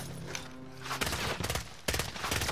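Gunfire in Call of Duty: Modern Warfare Warzone cracks out in two sharp bursts of rapid shots over a low game hum, with a brief tonal tone just before.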